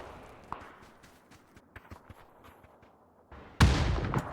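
Sparse, faint gunshots in a PUBG tournament match on the Vikendi map, scattered quiet pops before a sudden loud burst near the end.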